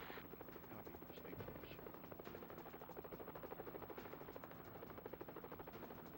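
A video-game helicopter drones in a steady, rapid rotor chop throughout, a dense, constant thrum mixed low under faint game sound, in a Mission: Impossible game.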